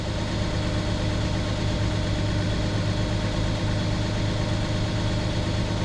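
A Nissan Pathfinder engine with a P0335 fault that makes it stall while driving runs steadily near 2,000 RPM. It gives a constant, close, even drone with no voices.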